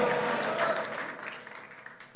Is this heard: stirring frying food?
no